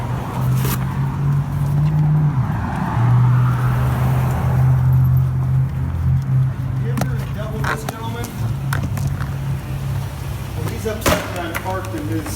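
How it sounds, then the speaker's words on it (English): A police officer climbs back into his parked car, with a steady low vehicle hum running throughout and a few sharp door or handling knocks near the end, partly under muffled voices. "The officer just quietly gets back in his car."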